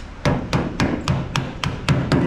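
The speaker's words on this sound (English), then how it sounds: "the real tricker is the putty knife." Eight evenly spaced hammer blows strike a putty knife driven into spot welds, sharp and close, ringing out in a steady rhythm without any voices.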